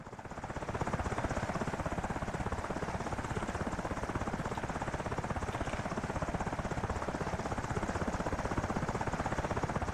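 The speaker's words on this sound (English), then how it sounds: "Oh, and then the helicopter's gonna go get him out of the water." A rescue helicopter in the DCS World flight game hovers over the water near an aircraft carrier, its rotor beating in a steady, loud, dense chop with no break throughout.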